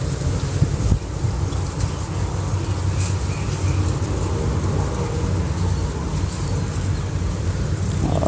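Steady wind rumbles and buffets the microphone throughout a frog-hunting outing in rice fields, a dense low roar with no talking, constant and fairly loud.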